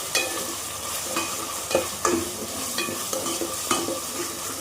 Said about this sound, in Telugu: ఫస్ట్ మనం జింజర్ గార్లిక్ పేస్ట్ వేసుకొని అది కూడా ఫ్రై చేసుకోవాలండి